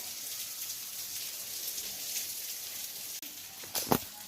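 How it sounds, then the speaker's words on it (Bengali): Steady rain falling outside in a village in the dark, with water dripping down from above, a continuous soft hiss with a few sharper drips near the end and no voices. "এটা তো উপর থেকে জল পড়ছে, এটা না বাইরে, কিন্তু বৃষ্টি ছাড়েনি"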